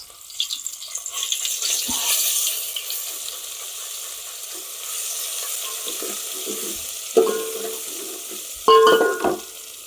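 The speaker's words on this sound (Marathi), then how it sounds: "आपलं तेल गरम झालेलं आहे पहिले लसूण अदरक सोडून टाकू याच्यात" Garlic and ginger sizzle steadily in hot oil for a village-style chicken sukka rassa, a close, continuous hiss with a few louder clatters of stirring near the end.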